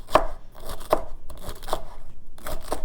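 A knife chopping celery on a cutting board, heard as five crisp, close, evenly spaced crunchy cuts, each a sharp snap with a brief crackle.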